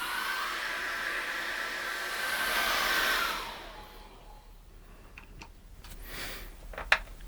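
A hair dryer blows steadily on a layer of acrylic paint for a Christmas winter scene for about three seconds, then cuts off, leaving a quiet room with a few faint taps and clicks.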